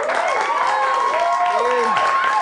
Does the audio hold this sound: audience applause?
yes